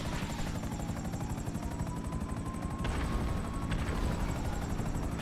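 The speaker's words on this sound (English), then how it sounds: "Above us, two choppers." Helicopter from the video game GTA V flying overhead, a loud steady rotor thrum with a buzzing whine, continuous throughout and close, under the sound of in-game gunfire.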